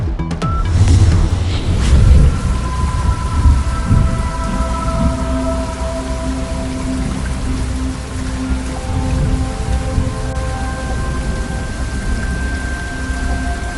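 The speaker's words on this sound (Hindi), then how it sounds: "पंजाब के कई शहरों में बारिश से जल थल एक हो गया। रिमझिम ने गर्मी की छुट्टी करा दी।" Heavy rain pours steadily on surfaces while deep rolls of thunder rumble, loudest in the first few seconds, then a sustained downpour continues alone.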